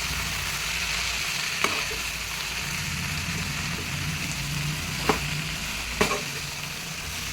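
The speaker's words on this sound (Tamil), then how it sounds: "எண்ணெயில் இதெல்லாம் வதக்குறேன்" Ingredients sautéing in oil for dhaba-style paruppu keerai give a steady, close sizzle throughout, broken by three brief sharp clinks of a utensil against the pan, with no talk.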